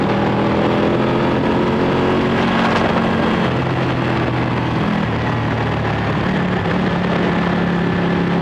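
A 1199 Panigale motorcycle engine drones loudly and steadily in third gear, pitch shifting as it accelerates and holds speed, with wind noise throughout and no talking.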